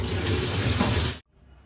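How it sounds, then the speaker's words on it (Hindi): Water gushes loudly from a bucket as it is emptied after washing mustard greens, a dense steady rush lasting just over a second before cutting off abruptly to quiet. "फिर बाल्टी को खाली कर रही हूँ उसका पानी खाली कर दे रही हूँ"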